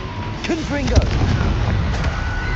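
A Confringo blasting spell fired in the Hogwarts Legacy video game bursts with a loud boom and crackling impact, followed by a sustained rumbling roar of fiery noise amid other spell effects.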